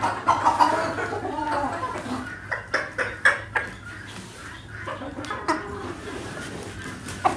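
Spanish (İspenç) chickens and roosters mill about a crowded coop, giving scattered clucks and short squawks in irregular bursts over a low steady background hum, fairly close and moderate in level.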